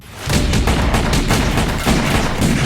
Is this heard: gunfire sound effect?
yes